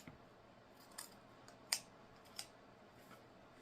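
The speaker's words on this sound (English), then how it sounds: "fold that ribbon in half, cut up at an angle" Scissors cut ribbon tails at an angle in a quiet room: several faint snips spaced irregularly, with one louder crisp cut in the middle, close and with no talking.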